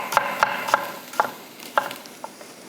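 Thinly sliced white onions are stirred in a hot, smoking pan, with a row of separate scraping knocks about half a second apart over a faint sizzle and no talking.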